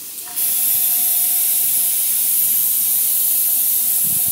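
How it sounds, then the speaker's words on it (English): A sudden onset of steady, loud airbrush spraying cleaner through the airbrush, a continuous bright hiss with a faint thin whistle underneath, holding constant for several seconds. "I'm gonna spray some airbrush cleaner through it as one last step"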